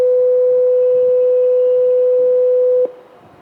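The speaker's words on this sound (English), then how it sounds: "500 Hz signal sounds like this." A steady 16-bit 500 Hz test tone, clean and continuous at constant loudness, holds alone for nearly three seconds before cutting off abruptly into quiet background hiss.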